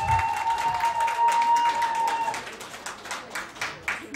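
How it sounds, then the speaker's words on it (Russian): An audience at a vocal competition concert in Murmansk claps, a dense patter of applause that swells after a brief sustained tone fades, with a voice briefly over it. "Аплодисменты, друзья!"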